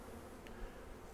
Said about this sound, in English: There's another bee, doesn't look too happy.